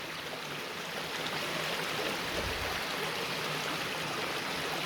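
Mountain spring water flows steadily through a forest, a constant broadband rush with no pauses, fairly close and alone without any voices.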